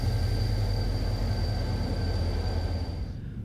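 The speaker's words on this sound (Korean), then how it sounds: "오늘은 기차를 타고 출발합니다." Riding aboard a train bound for Yesan Station, a continuous low rumble of wheels on rails with a faint steady whine overhead, fading slightly near the end.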